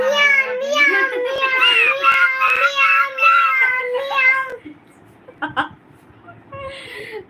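A voice imitates a cat's meow in a long, drawn-out, wavering call, loud and close. It is followed by a brief pause, a few soft clicks and a short, quieter vocal sound.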